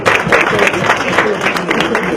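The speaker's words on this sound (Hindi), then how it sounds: "तो सबके लिए ताली।" An audience applauds at a Pakistan Resolution Day gathering in New York, a dense burst of many hands clapping that holds steady and loud for a couple of seconds.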